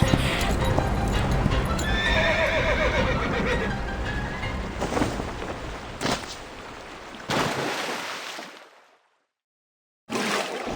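Horse in the video game Reverse: 1999 galloping with rapid clip-clop hoofbeats and a whinny over loud game sound, then a sudden drop to silence before noise returns; voices talk over it.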